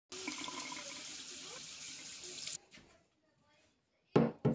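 Water runs steadily from a tap or is poured at home for about two and a half seconds, then stops, followed by a brief louder burst of noise near the end.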